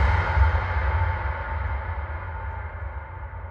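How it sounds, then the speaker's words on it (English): An epic cinematic trailer hit built from processed recordings of a rock tumbler being struck: one deep, booming impact with a long, dark reverberant tail that slowly fades, heard alone. "transforming them into epic cinematic hits like this"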